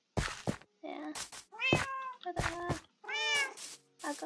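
Cats meowing in the video game Minecraft, several short rising and falling meows in a row, close and clear, with someone speaking briefly between them.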